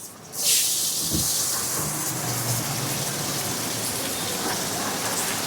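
Large onions, about 400 grams, hit hot oil in a pan while cooking fish head curry, bursting into a loud, steady, close sizzle that holds on like heavy rain.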